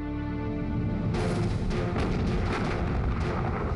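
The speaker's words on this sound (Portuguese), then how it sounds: "os poderosos canhões da superarma de Hitler destroem o orgulho da marinha inglesa." After a low droning hum, a warship's heavy naval guns burst out with several loud booms in quick succession, close and powerful.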